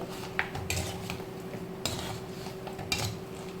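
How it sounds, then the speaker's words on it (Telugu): Boiled peas are coarsely mashed in a bowl for a panipuri filling, with a utensil scraping and clinking against the dish in a few separate sharp knocks and strokes. "కచ్చాపచ్చిగా స్మాష్ చేద్దాము"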